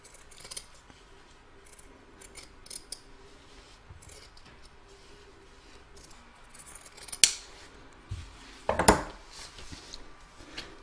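Scissors cutting around pinned fabric for a patchwork Christmas stocking: a steady run of soft, close snips and rustles, with a few sharper clicks of the blades near the end.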